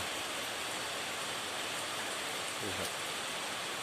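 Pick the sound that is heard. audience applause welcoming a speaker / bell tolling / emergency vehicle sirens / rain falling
rain falling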